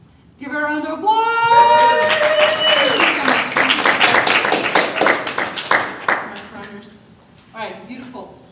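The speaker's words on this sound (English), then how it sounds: "Give her a round of applause!" Audience applause at a goal-setting talk, a dense wash of clapping that swells early and carries on under a speaker's voice before fading out near the end.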